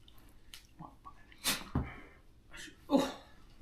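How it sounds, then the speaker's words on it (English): A dog sneezes in a calm indoor setting, giving a few sharp, snorting bursts close by with quiet pauses between them and no one talking. "sneeze again"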